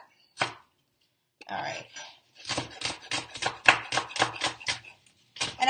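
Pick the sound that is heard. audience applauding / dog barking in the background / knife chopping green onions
knife chopping green onions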